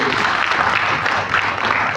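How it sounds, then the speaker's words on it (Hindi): Audience clapping together at a company training session, a dense, continuous round of applause filling the room at moderate loudness without voices over it. "तो एक बार शानदार ताली होनी चाहिए माई लाइफस्टाइल।"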